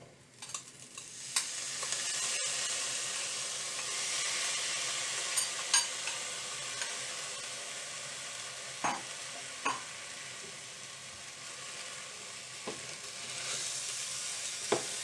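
A can of corn stirred into sizzling rice with saffron, garlic and onion for a dried-beef risotto: a steady frying hiss throughout, with occasional sharp clinks of a utensil against the pan.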